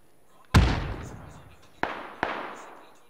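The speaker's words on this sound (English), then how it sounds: "Somebody's taking shots." Gunshots in a video game: three sharp, loud reports, the first heavy and booming with a long decaying echo, then two lighter cracks close together a few moments later.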